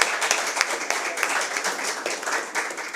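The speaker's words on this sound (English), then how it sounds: "let's give a round of applause to Dr. Neptune" Steady applause from a crowd, dense clapping with a few sharper claps standing out, sustained throughout.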